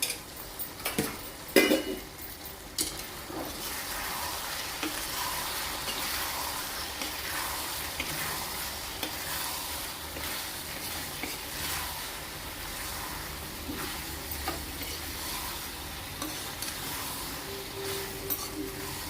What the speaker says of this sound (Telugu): ఇప్పుడు అంత కలిసేలాగా తిప్పుకున్నాం కదా